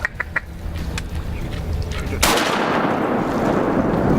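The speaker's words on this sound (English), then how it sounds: "Nice shot, Mike." A shotgun blast goes off while duck hunting in flooded Arkansas timber, a sudden loud report at about two seconds that leaves a sustained roar of noise, after softer field sounds and a few faint calls.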